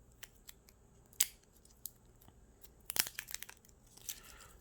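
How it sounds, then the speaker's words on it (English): A red Microsoft Surface Pen is pulled from its plastic wrap, giving sharp crinkles and snips of plastic in scattered bursts, close and fairly quiet, with short gaps between. "So this is the pen, and it comes in this plastic wrap. So we'll take it out from the plastic wrap here."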